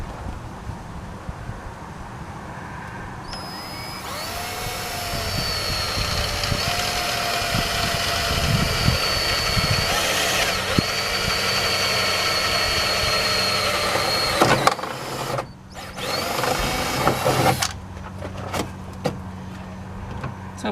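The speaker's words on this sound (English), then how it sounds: "So let's go ahead and drill them holes and then hot rivet that thing in" An electric power drill bores holes for rivets on a BMW E46 radiator mount, its high motor whine holding for about ten seconds, then returning in a shorter burst over a low background hum.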